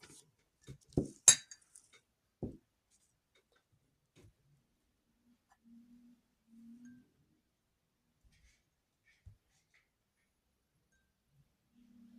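Soil stirred into a glass of clean water with a utensil, a few close, light clinks against the glass early on, then near silence with faint scattered taps.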